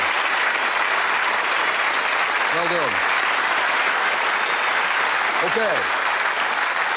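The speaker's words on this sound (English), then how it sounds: "Give them a round of applause." A studio audience at the Bullseye darts game show claps continuously in a loud, full burst while a host speaks briefly over it.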